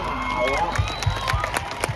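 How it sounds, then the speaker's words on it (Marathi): Crowd at a Kolhapur kushti wrestling match clapping and cheering in a dense, loud wash of noise, with rhythmic claps and an excited voice carrying over the top. "टाळ्या टाळ्या टाळ्या"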